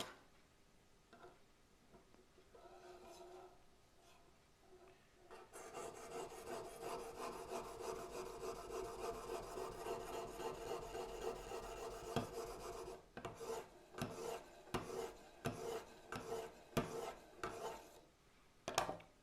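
A knife blade is drawn across an EasyAffut sharpener, giving a steady rasping scrape that runs continuously for several seconds, then breaks into a series of short, separate strokes near the end. Nobody speaks.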